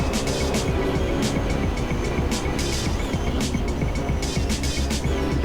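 GT3 race car in the sim racing game Assetto Corsa, on the Nordschleife during an endurance race at about 270 km/h, with a steady loud engine drone and road roar that hold throughout.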